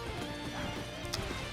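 Galloping horse hooves clip-clop rapidly beneath a short whinny in the samurai battle game Sengoku Basara 3, set against dense game music and effects in a brief, busy burst.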